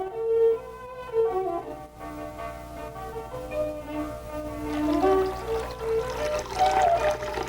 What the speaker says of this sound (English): The alcohol in the mare's milk condenses on the cold water bowl and trickles down into the small pot.